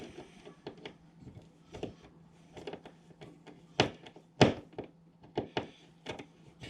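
A camera mount's wall anchor being pushed in and tightened in a garage, heard as a series of sharp clicks and thunks at an uneven pace, with a couple of louder knocks, close by over faint low background hum.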